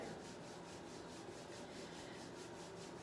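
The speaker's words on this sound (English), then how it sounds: "start to rub your palms together" Palms rub together in a yoga class with a steady, soft, continuous swishing friction, close and faint with no talk.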